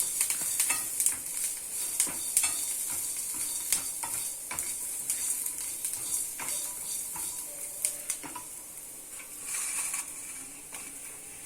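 Vegetables including carrot fry in a pan for masala upma, a steady bright sizzle broken by frequent scraping and clinking stirs of a utensil against the pan, close up and with no talking.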